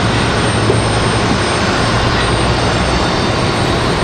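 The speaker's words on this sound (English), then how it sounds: "This A321neo." Airbus A321neo airliner in America's Green Airline livery arriving at Raleigh-Durham, a dense steady jet roar with a low engine hum, loud and continuous.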